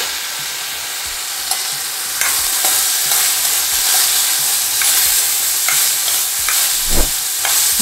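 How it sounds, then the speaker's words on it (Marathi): Cauliflower, carrot and peas stir-fried in a pan for vermicelli upma give a steady close sizzle, broken by repeated scrapes and taps of a spatula against the pan, with no talking. "छान परतून घ्यायचे आहेत आता."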